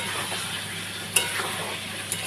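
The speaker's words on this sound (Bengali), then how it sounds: "আজকে ডিমটা রান্না করছি" Egg frying in a pan in a home kitchen, a soft continuous sizzle with a few light scraping stirs of a utensil, quiet and close.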